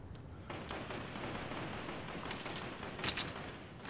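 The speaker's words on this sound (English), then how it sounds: "Oh, gunfire." Bursts of rapid video game gunfire crackle over a noisy background, with a sharper cluster of shots near the end.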